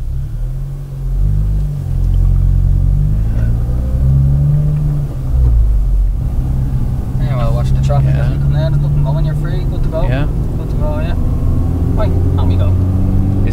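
A 2016 Honda Civic Type R FK2 at Mondello Park race track rumbles loudly from inside the cabin, engine tone climbing and dropping through gears, while someone talks over it.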